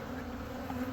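Honeybees buzzing around a hive box, a steady low droning hum of many bees close by with no talking.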